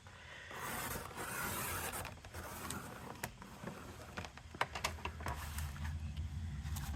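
Cardboard from a box being trimmed down for a journal cover, a close, quiet run of scraping and rasping cuts with a few sharp ticks and rustles and no speech.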